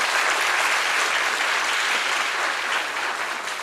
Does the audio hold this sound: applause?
yes